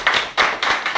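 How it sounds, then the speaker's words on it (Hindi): Audience clapping at an event launching a molecular therapy, heard as four distinct rhythmic bursts of hand claps, close and fairly loud, with no talking. "मैं चाहता हूँ वाकई में एक बार जोरदार उनके लिए एक तालियां हो जाए"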